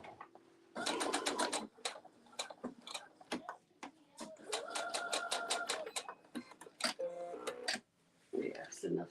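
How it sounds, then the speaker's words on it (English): A sewing machine stitching a fringe skirt runs in several short rapid bursts of needle clatter separated by pauses, close and fairly loud, with a person talking in between. "We're gonna go ahead and sew."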